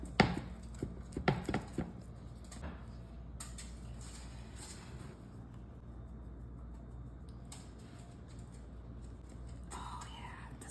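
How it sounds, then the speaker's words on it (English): A knife cutting a slice of pizza, with a few crisp crunching chops near the start and then quieter scraping and soft handling under low room noise, close by. "All right, time to cut a slice."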